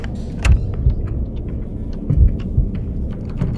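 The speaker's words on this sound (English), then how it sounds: "The chest opening sound sounds like the door opening." A chest creaking open in the horror game Dungeon Nightmares, a low rumbling, grinding sound like a heavy door, with a few soft thuds, fairly loud and steady over a few seconds.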